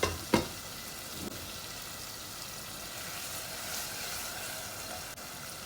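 Fish cooks in gravy in a pan for a Bengali curry, a soft continuous bubbling sizzle with a few faint scrapes and knocks near the start, quiet and without talk.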